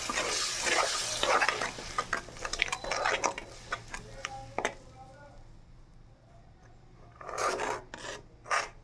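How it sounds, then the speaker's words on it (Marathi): Ground masala paste fries in a pan for mutton curry, with scraping stirs and rasping spoon strokes over a soft sizzle, busier at the start and again near the end. "तिला फ्राय करून घ्यायचं"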